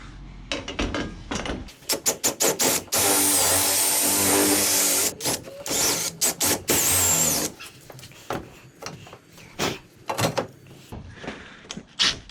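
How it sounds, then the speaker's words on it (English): A power drill bores out a hole for a nutsert on a camper pop top, running in loud, close bursts of grinding whine broken by short pauses, with a long continuous run in the middle. "I'm going to chuck a nutsert in the same end as I have over here, drill it out"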